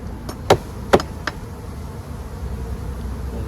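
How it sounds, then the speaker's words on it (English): A few sharp taps, two of them louder, knock against a hive screen to shake bees off while bees buzz steadily in the background. "So this, I'm just going to tap the bees off of it"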